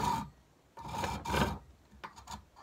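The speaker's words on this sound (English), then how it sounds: "I'm just letting the rasp do the work" A Microplane rasp files with light strokes. There are three close rasping scrapes, followed by a few shorter, quicker rubs.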